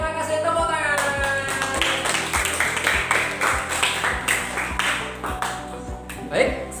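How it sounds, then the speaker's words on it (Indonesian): Students in a classroom lesson give a round of applause, scattered claps with a rhythmic pulse running through, under a teacher's voice and other talk in the room. "terima kasih, tepuk tangan"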